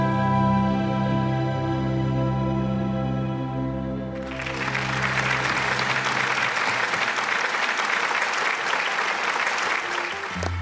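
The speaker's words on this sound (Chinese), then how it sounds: "这个掌声是给我们所有演员刚才非常投入的演绎" Sustained studio audience applause on a TV drama talk show, after a performed scene from the series; sustained music plays for about four seconds, then a loud, even wash of many clapping hands takes over and continues to the end.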